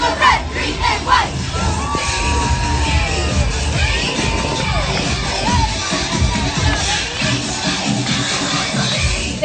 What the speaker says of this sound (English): Cheering is so much fun to watch.